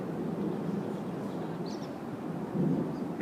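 Distant thunder from a strong thunderstorm over Hoover, Alabama gives a low, continuous rumble that swells louder near the end, heard alone without voices.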